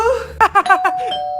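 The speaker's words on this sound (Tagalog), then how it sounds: "May nag-doorbell?" A doorbell chimes, several bright electronic ding-dong tones ringing out in quick succession and ending in one held note, loud and close indoors in a comic skit.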